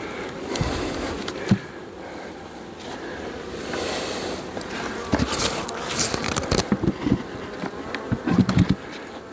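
Steady insect buzzing from many honey bees around a hive fills the scene, close and continuous, with scattered crackles and bumps on top and no talking.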